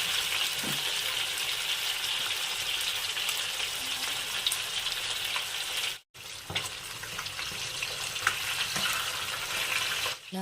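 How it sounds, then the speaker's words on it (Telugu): Fish pieces fry in a pan with a steady, dense sizzle and crackle, close and continuous, with a ladle stirring now and then and one brief break partway through; no one speaks. "ముక్కలన్నీ వేసిన తర్వాత నిదానంగా గరిటెతో ఇలా కలుపుకోవాలి. ముక్కల్ని తక్కువ తెగలో వేగనివ్వాలి."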